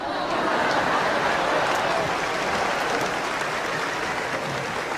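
A large theatre audience claps hands together in a steady, loud, continuous roar of applause throughout, with crowd noise blended in and no pauses.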